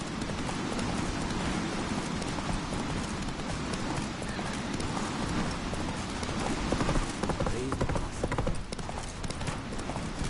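Roach, a horse in the video game The Witcher 3, gallops with rapid, continuous hoofbeats over a dense steady bed of noise, up close and fairly loud throughout.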